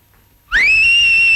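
A single loud, clear whistle rises quickly to a steady high pitch and holds, following a brief quiet moment.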